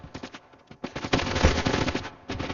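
Rapid bursts of automatic gunfire from the video game Standoff 2 rattle close and loud, with short pauses between volleys.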